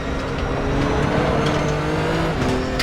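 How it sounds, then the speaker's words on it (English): A Nissan GT-R GT3 race car in RaceRoom climbs uphill at the Nordschleife with a steady, droning engine note as the revs sag, heard alone with faint tyre noise. "You can really hear the revs dying."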